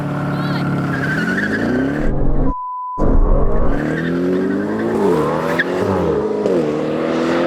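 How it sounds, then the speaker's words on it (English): An Aston Martin engine revs hard and launches with squealing tires in a drag race, pitch climbing through gear changes, close and loud, with a brief tone and voices mixed in. "that's the best launch I've had in this"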